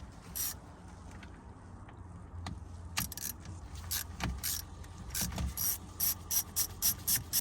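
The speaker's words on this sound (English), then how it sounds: "Once you've loosened those two screws" Screws are loosened on the steering wheel of a Nissan Micra K12 while the clock spring is being replaced: a quiet run of small ratcheting clicks and mechanical ticks, growing busier toward the end, with no talking.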